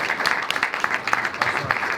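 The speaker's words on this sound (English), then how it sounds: "Big round of applause for these guys." Audience applause after a film screening Q&A, dense continuous clapping at moderate distance with scattered sharper claps throughout a short burst.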